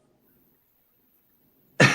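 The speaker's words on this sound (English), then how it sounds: "Of course, I cough right before it's my turn, right?" A single sharp cough bursts out close to the microphone after near silence, loud and abrupt at the very end.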